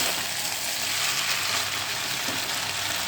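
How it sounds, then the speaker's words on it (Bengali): Food seasoned with pepper is stirred in a pan over a high flame, producing a continuous, close sizzle and hiss with faint scraping underneath. "তারপরে গোলমরিচ দিয়ে দেবো। ভালো করে হাই ফ্লেমে একে নাড়াচাড়া করবো,"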